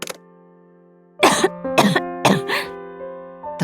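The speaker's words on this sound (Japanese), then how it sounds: "咳だけ長引いていて" A lingering cough from someone whose cold has cleared, three or four harsh close coughs over a soft sustained musical background.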